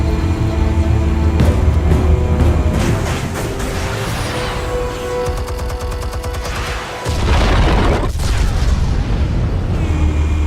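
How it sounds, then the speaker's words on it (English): Explosives detonating in the Batman Telltale video game make loud, rumbling booms and crackling blasts that run continuously, dip briefly midway, then surge back heavy and close. "Explosives armed. Fire when ready."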